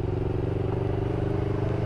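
A CFMOTO 650NK motorcycle, a twin engine rumbling steadily at close range with a fluttering, lightly crackling exhaust burble over roughly two seconds, and no talking.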